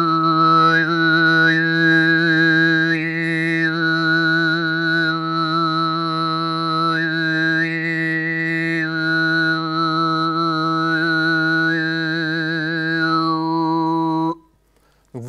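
Mongolian hoomij overtone throat singing: a steady, loud drone voice with a bright diphonic whistle melody gliding above it, sustained continuously for about fourteen seconds before cutting off.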